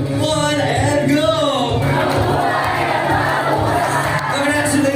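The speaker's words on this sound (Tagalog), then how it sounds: "agad isang malakas na palagpakan at hiyawan" Loud crowd of wedding guests cheering and shouting for newlyweds at a treehouse event place, voices roaring together close and dense, with clapping mixed into the continuous din.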